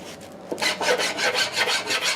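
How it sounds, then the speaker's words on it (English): Hand file rasping a dado cut in melamine board, a series of about seven rhythmic back-and-forth scraping strokes, close and fairly loud, with no talking. "I can see I'm going to need to file it a little bit."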